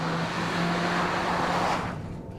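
An Audi A3 with the 1.8 engine pulls hard near the top of the rev range on twisting mountain roads, a loud, continuous engine roar from inside the car that eases off toward the end.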